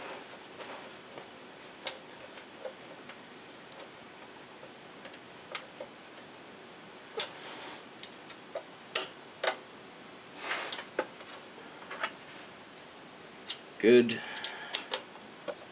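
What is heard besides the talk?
Phillips screwdriver tightening computer screws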